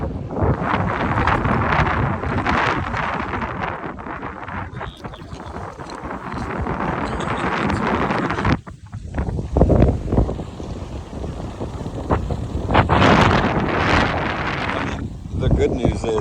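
Strong wind buffets a kayak on a choppy lake, roaring steadily across the microphone with water slapping the hull throughout; a person speaks briefly in the middle.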